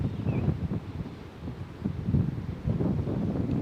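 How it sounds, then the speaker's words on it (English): Wind blows outdoors during a morning yoga session, a low gusting rumble buffeting the microphone, rising and falling unevenly with no voices. "Feel the wind against your skin."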